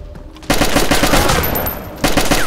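Rapid automatic gunfire from a gun in the video game DayZ, a loud sustained burst of closely spaced shots, briefly easing then surging again.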